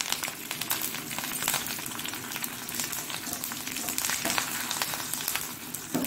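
Garlic, mustard seeds and curry leaves fry in hot oil for a colacasia root gravy, a close, steady crackling sizzle with small pops throughout and no talk.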